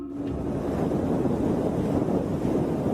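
Wind roars steadily against the microphone at night in Spain, a dense low rumble with no voices or other distinct sounds.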